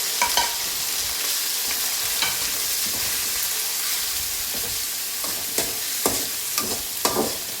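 Three or four small chopped onions fry in a pan, sizzling steadily up close while a spatula stirs them, its scrapes and taps landing irregularly through the sizzle and clustering toward the end.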